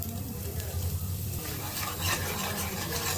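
Nigella seeds and asafoetida crackle in hot oil while being stirred, a soft continuous sizzle with faint scraping, quiet and close.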